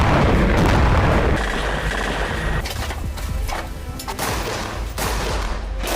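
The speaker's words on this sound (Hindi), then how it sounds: "इजरायली सेना ने उत्तरी गाजा में भीषण बमबारी की।" Heavy bombardment in northern Gaza: a loud, close blast opens, then rumbling booms and scattered detonations roll on for several seconds, with no voices heard.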